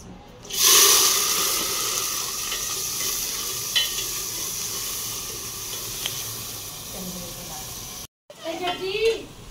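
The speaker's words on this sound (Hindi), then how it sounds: "तो चिकन जी हमारा फ्राई हो रहा है।" Chicken sizzles and crackles steadily in a hot pan with fried onions, a close, continuous hiss with a sharp burst at the start and a brief clatter near the end; no one talks over it.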